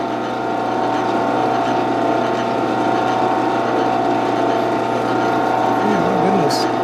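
A lathe cutting a thread on a custom shotgun choke gives a steady mechanical whir and hum with a faint ticking texture, running continuously and close, with no talking.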